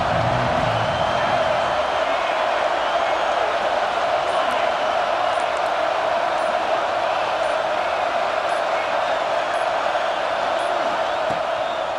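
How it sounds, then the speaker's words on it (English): Stadium crowd in EA Sports College Football 26, a dense steady roar of massed voices holding at one level throughout, loud and continuous, with some low rumble early on. "This crowd ready to make its presence known."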